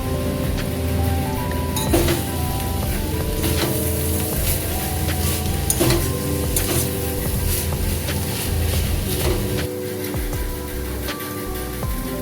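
Dried chilli powder goes into a hot pan of cabbage and prawn curry, and a steady, dense sizzle continues throughout with occasional clinks of a spoon against the pan, close and fairly loud.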